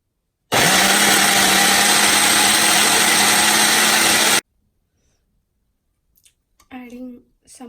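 A kitchen blender whirs loudly and steadily for about four seconds, grinding ginger and green chili for coconut chutney, then cuts off to quiet, followed by a brief voice.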